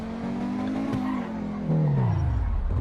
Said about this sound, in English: Now the highway. Full throttle.